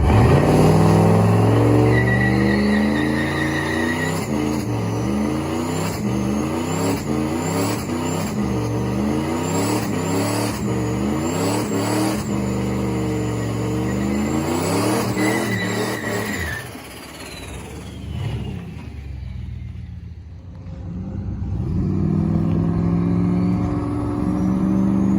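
Turbo LS-swapped Dodge Caravan with a 4L80 transmission accelerating hard, loud engine revs climbing through repeated gear shifts with turbo whine and whooshes, then easing off briefly before pulling again.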